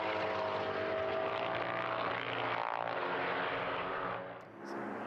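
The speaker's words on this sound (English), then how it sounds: "You can still hear the Chevy V8 that's probably halfway down the start and finish straight over the sound of the flat sixes and these two Porsches." Race car engines at Portimão circuit during GT sprint qualifying: two Porsche flat-sixes and a Chevy V8 further down the start-finish straight, a dense continuous loud roar with steady harmonic drone, dipping briefly near the end.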